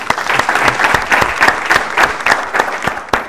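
A game-show studio audience applauds, with loud, close, rapid clapping that runs steadily for a few seconds and ends in one sharp clap.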